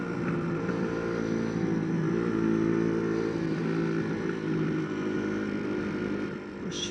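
A 2017 Yamaha MT-125 roadster engine while riding at low revs: a steady, humming drone whose pitch wavers slightly, heard throughout without speech.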